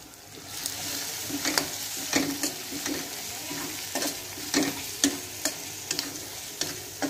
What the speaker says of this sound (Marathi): ही चटणी मी लोखंडाच्या तव्यामध्ये बनवत आहे।